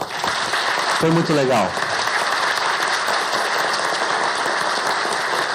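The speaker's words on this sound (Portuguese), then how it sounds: "Gente, uma salva de palmas, por favor." An audience at a leadership and innovation panel applauds steadily throughout, a dense even wash of clapping, with a brief spoken remark near the start.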